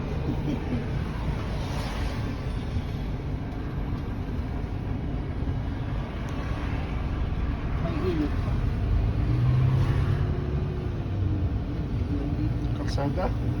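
Road traffic rumbles in a continuous low drone of cars on a road-trip route from the Netherlands to Paris, steady and fairly close with a brief vehicle tone swelling midway, under near-constant talk.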